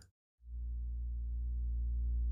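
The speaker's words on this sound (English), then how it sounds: "this is just a sub bass I made in Alchemy in Logic" After a brief silence, a deep synthesizer sub bass note made in Alchemy in Logic, with a pure sine-like tone, swells in and holds steadily.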